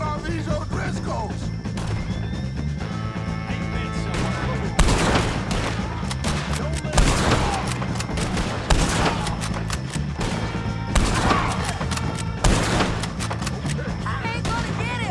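Repeated gunshots ring out in a Red Dead Redemption 2 shootout against O'Driscoll gang members, sharp bursts landing every second or two over a constant game ambience while voices talk and shout in between.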